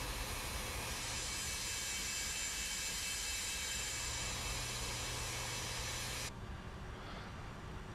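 Steady, loud roar of MD-80 jet engines in a flight simulator, a broad continuous whine and rumble that drops in its upper hiss near the end, with no talking.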